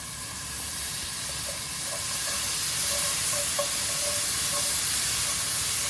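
Garlic sizzles in a hot pan with mushrooms while making beef stroganoff. A steady, loud frying hiss builds slightly in strength, with small crackles and pops scattered through it and no talking.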